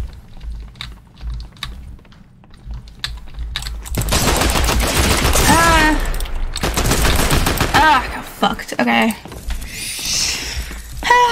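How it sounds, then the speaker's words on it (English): Rapid bursts of automatic gunfire in the video game Fortnite, dense and loud from about four seconds on, with scattered clicking beforehand and a voice talking over parts of it. "I'll shoot you."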